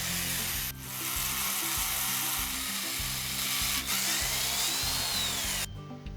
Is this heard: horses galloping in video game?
no